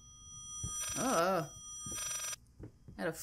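An old telephone rings in the Layers of Fear horror video game, two warbling rings with a short gap between them, followed by fainter trailing tones at the end.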